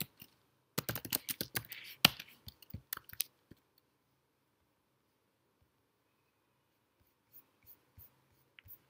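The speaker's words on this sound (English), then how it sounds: "Here I can type" Quick bursts of keystrokes on a computer keyboard clatter close up for about three seconds, then the room goes nearly silent with only a few scattered taps toward the end.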